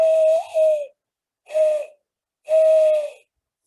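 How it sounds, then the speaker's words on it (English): Mourning dove cooing in a meadow setting, three mournful hooting calls with short pauses between them, clear and fairly close with no other sounds. "so why do the mourning doves start cooing in February?"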